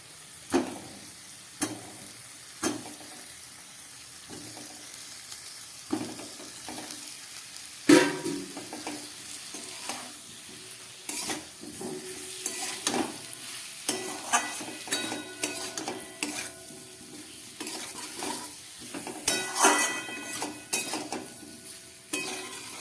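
Elephant foot yam and potato fry with spices in a pan, a low sizzle under repeated scraping and knocking strokes of a stirring spoon that come irregularly and close up, with no talking.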